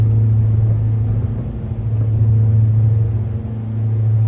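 Twin engines of a Diamond DA42 Twin Star run steadily at takeoff power, a loud, even droning hum with no voices over it.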